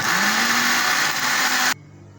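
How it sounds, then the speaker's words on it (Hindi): An electric grinder whirs loudly as it blends soaked ingredients into a smooth batter for Peshawari rice kheer. The motor pitch climbs as it spins up, runs steadily, then cuts off abruptly near the end. "इसको मैं ग्राइंड करूँगा। इतना करूँगा कि बिल्कुल स्मूथ हो जाए"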